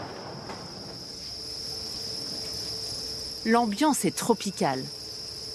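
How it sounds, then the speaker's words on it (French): Crickets in an insect farm, kept warm and humid by the millions, chirp in a constant high-pitched drone, with a voice briefly speaking over them near the end. "il prend soin chaque jour des millions de grillons qui peuplent l'élevage"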